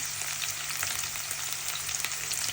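Jute leaves frying together with raw onions in hot oil give a steady, close sizzle with a dense crackle throughout, and no voices are heard.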